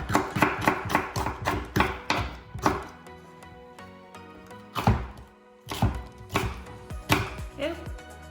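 A knife chops a yellow pepper on a cutting board in a quick run of crisp thunks, then pauses and resumes with a few scattered heavier chops, close and clear.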